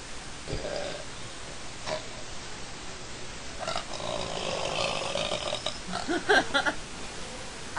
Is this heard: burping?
yes